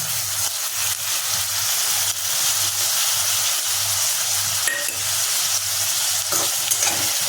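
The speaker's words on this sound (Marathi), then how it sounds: "टोमॅटो टाकला, त्याला चांगला परतवून घ्यायचा।" Tomato frying in a kadai with onion and chilli for a radish chutney, a steady close sizzle with repeated scraping strokes of a spoon stirring through it.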